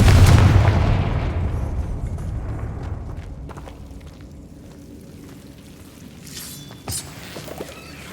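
A Confringo explosion spell in Hogwarts Legacy bursts in a loud, deep boom at the start, then rumbles and fades over several seconds, followed by a small sharp crack near the end.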